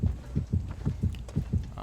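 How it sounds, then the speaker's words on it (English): In the Dead by Daylight video game, the killer's heartbeat thumps in a steady, deep, loud double-beat rhythm, about five pulses across the stretch, with no talking. "So we just hear the one heartbeat"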